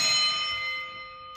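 A pellet from a Kral NP02 .177 air rifle strikes a metal bell target at an airgun range, giving a single bright ring that decays slowly over about a second, heard alone without talk.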